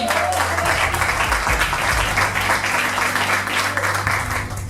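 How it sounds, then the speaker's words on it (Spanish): Congregation clapping in church during a sermon, a continuous dense patter of many hands with a low sustained organ or keyboard tone underneath, steady and fairly loud throughout. "Dele palmas al Señor."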